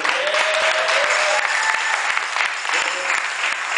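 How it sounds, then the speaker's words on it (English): A crowd gives loud, sustained applause with scattered cheers for a performer, steady clapping that fills the room while a voice is faintly audible underneath. "Hold your applause"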